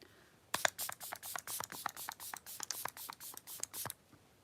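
Setting spray misted onto hair from a pump bottle, about twenty quick close hissing bursts in a steady rapid rhythm, faint and alone.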